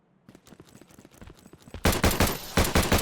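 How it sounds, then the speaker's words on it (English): Bursts of submachine gun fire in a video game, quieter scattered shots at first, then a loud, sustained rapid volley in the second half, aimed at enemies called watchers. "we can see how the SMG works against watchers"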